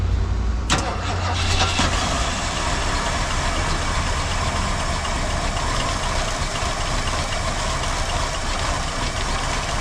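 A 1977 Ford LTD station wagon left in a junkyard for 17 years cranks briefly and catches, then its engine runs loud and steady at a rough idle, close by, with voices faintly underneath.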